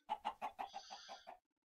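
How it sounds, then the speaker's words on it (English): Chicken in Minecraft clucking in a quick run of about eight short, evenly spaced clucks, close and clear, ending abruptly in silence. "Come back here, chicken."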